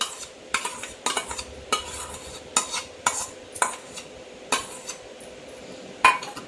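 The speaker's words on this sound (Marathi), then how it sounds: "अर्धा तूप आणि अर्धा तेल घेतले। तर आता आपण पातेल्यात काढू आणि ते गरम करून घेऊ।" Ghee and oil heat in a pot for Mysore pak, with no steady sizzle but repeated sharp metallic clinks and scrapes of a utensil against the vessel, several knocks spaced through the stretch, close by, with no voices.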